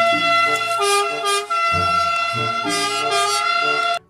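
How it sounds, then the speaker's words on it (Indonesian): A toy ambulance or fire engine siren plays a looping electronic wail with steady tonal melody, loud and close, cutting off briefly once midway and again at the end. "ada mobil pemadam, mobil ambulans"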